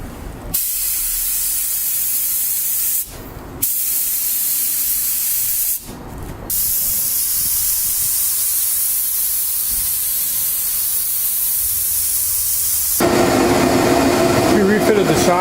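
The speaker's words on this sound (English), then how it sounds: "We're getting ready to primer the hood here, and we're using a build primer." A spray gun hisses steadily, close and loud, as catalyzed build primer goes onto the hood of an AMC Javelin in a shop, with short breaks between passes and a harsher burst near the end.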